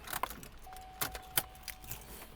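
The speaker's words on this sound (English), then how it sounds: "I'm going to go ahead and get one of these new keys off the key ring" A key ring holding new replacement keys for a 2011 Chevrolet HHR jangles in close metallic bursts, with a few sharp clinks spread across a quiet room.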